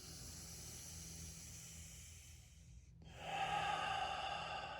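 Slow, deep breaths during a yoga neck and shoulder stretch: a long airy exhale tails off into a brief pause, then a fuller inhale follows, close and breathy over a low background hum.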